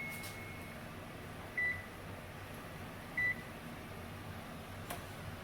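An Instant Pot timer goes off with two short, identical electronic beeps about a second and a half apart, thin and clear over a quiet room hum in a kitchen.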